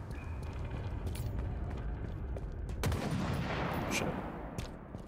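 Halo Infinite match gunfire crackles and bursts continuously at moderate loudness, with a sharper spike partway through, and no clear talking over it.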